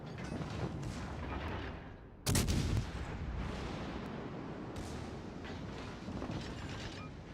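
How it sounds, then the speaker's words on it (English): Secondary guns of a warship firing in a naval combat video game, a steady rumble of rapid distant blasts with one loud, sharp boom standing out near the start, then continuing volleys. "You do have pretty decent guns on this. Oh, and look at that secondary firing."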